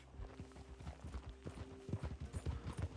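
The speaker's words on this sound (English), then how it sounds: "Uy, me han traído un caballo. Madre mía, un caballo que arranca." Horse hooves clop along in Red Dead Redemption 2, a fast, regular stream of distinct hoofbeats that grows somewhat louder toward the end, heard alone at moderate level.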